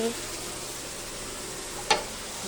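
Broccoli cooking in hot oil on a stove, a soft continuous sizzle with one brief sharp clink near the end, quiet and close.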